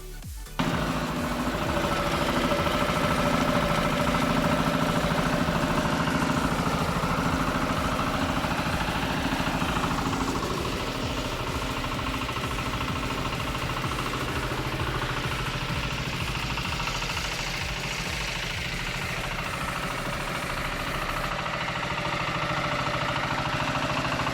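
A Kentavr 1012DE walk-behind tractor engine runs during break-in without its tiller attached, starting abruptly and then settling into a steady, moderately loud mechanical drone that persists alone for the whole stretch.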